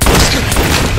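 A gunshot rings out in a Riddler scene with Edward Nygma: a loud, sharp blast followed by a dense, noisy tail that fills the moment.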